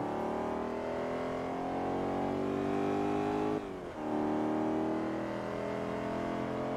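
Car engine in the racing game Forza Motorsport 3 holds a loud, sustained high-rev drone with rising pitch, briefly dipping at a gear change before climbing again, with no talking.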